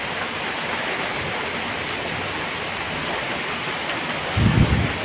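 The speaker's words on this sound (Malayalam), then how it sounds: "എല്ലാവരും ആഗ്രഹിച്ചിരുന്ന ഒരു മഴയാണ് കേട്ടോ. നല്ല ശക്തമായിട്ട് തന്നെ പെയ്യുന്നുണ്ട്." Heavy rain pours steadily in strong wind, a loud, dense wash of hiss close by, with a brief deeper rumbling gust or thud near the end.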